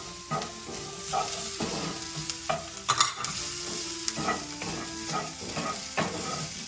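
Crushed dried red chili pepper dropped into a hot pan for a Vietnamese pork bowl, with a bright sizzle and a series of stirring and scraping knocks, close and lively.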